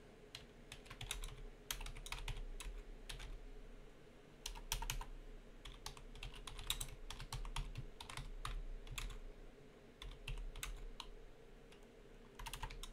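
Someone types a message on a computer keyboard, with steady bursts of key clicks separated by short pauses, close and clear over a low background hum.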